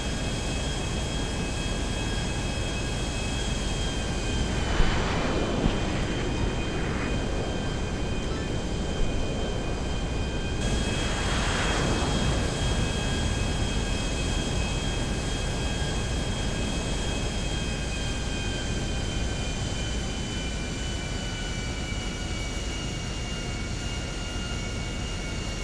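An airplane in GTA Online flies steadily with a loud, continuous engine roar and whine that holds throughout, with a couple of soft whooshing swells and a few faint clicks.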